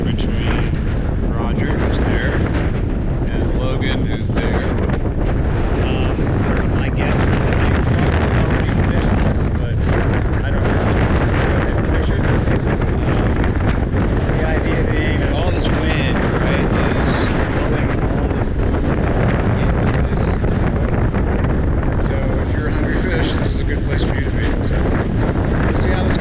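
Strong, gusty wind at Virginia Lake in the Mammoth Lakes backcountry, buffeting the microphone in a loud continuous roar with surging rumbles for the full length, no clear talk.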